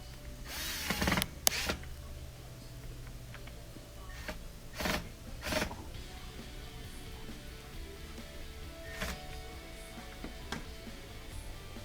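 A power drill drives screws into an LG dishwasher in short whirring bursts, close and fairly loud, separated by clicks and handling noise from the work.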